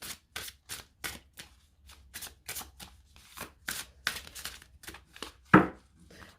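A deck of Macabre tarot cards with a matte finish is shuffled in a quiet room, with a steady run of crisp, papery riffles and card slaps close up and no talking.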